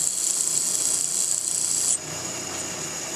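A high-speed steel lathe tool is ground against a bench grinding wheel, a bright, steady rasping grind that abruptly lightens near the end as the contact eases, loud and close with no speech.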